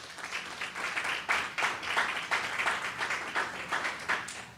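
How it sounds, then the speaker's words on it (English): An audience at an alumni meet and greet event applauds, a dense patter of many hands clapping steadily for several seconds at moderate loudness. "So a round of applause to you all."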